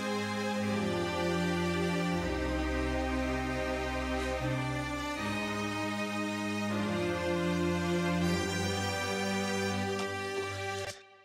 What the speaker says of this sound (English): On the B2, you have the sustained string section come in underneath.